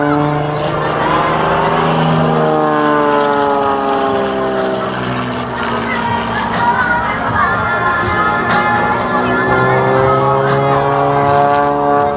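An aerobatic airplane's engine roars continuously at an air show in Kraków, Poland, steady and loud throughout with rising and falling harmonic tones as the plane maneuvers, while a commentator speaks over it.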